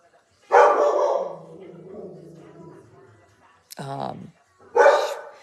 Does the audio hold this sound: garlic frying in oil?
no